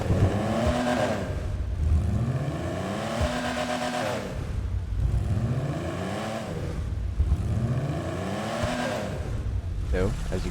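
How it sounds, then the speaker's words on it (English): A car engine in a video game, a car with an unusual startup sound, revs up and down three times in sweeping rises and falls, close and loud, with a voice talking over it. "So let's give it a couple revs."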